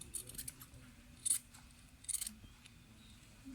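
Scissors cutting fabric for a kameez, two crisp snips about a second apart plus lighter rustling of cloth, close and quiet against a faint background hum with no voices.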